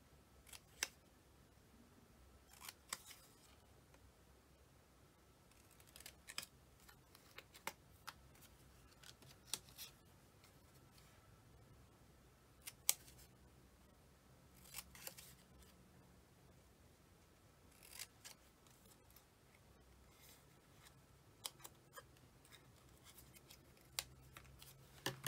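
Scissors snipping paper tails for a scrapbook layout, quiet close clicks and cuts coming in scattered bursts against near silence.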